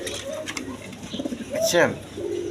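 Pigeons kept with eggs coo nearby in a soft, rolling call that peaks briefly near the end, while a person talks over them.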